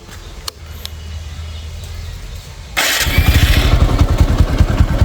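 A 2022 TVS Apache RTR 160 2V motorcycle, second hand, sits quiet with a faint hum before the engine is started and catches abruptly, settling into a loud, close, rhythmic idle thump.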